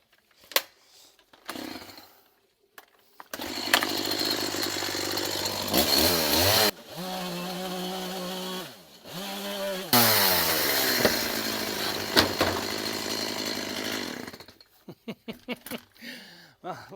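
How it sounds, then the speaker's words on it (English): A chainsaw cuts through wood holding a ring-shank nail, revving loudly in several long bursts with short drops in pitch between them, then falls away to quiet handling noise. "Nope, chainsaw it is."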